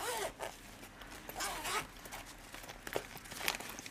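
Zipper on a pencil case being pulled open, several quick rasping zips in short bursts with light handling rustle, close and quiet with no talk.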